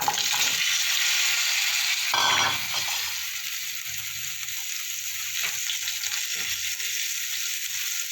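Cut potatoes dropped into a hot pan of oil while cooking a Bengali rui fish curry with eggplant, giving a loud burst of sizzling that settles into a steady, bright frying hiss with occasional stirring clinks.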